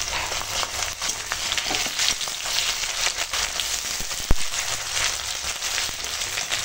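Ginger-cumin paste sizzles and fries steadily with onions and whole spices in a pan, a continuous close crackling hiss with one sharp pop partway through.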